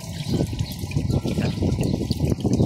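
Water pouring steadily from a deep-well filter system, a close, continuous splashing trickle with dense bubbling throughout.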